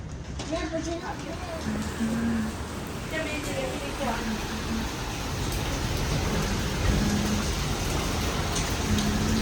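Steady rain pours down as a dense, even hiss throughout, with a voice speaking intermittently over it.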